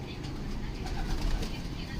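Soft, low pigeon coos murmur close by amid rustling background noise, with faint voices mixed in.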